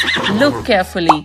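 A horse whinnies as a sound for a children's guess-the-animal game, one short bright neigh rising near the end, with a voice speaking over most of the clip.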